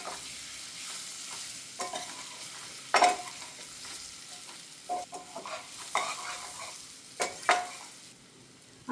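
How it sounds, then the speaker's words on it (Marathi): A potato and mint curry mixture seasoned with cumin powder and salt is stirred in a pan, giving quiet scraping and sizzling with intermittent sharper knocks of the spoon against the pan, no talking. "आता हे सगळं आपण एकदा मिक्स करून घेऊयात."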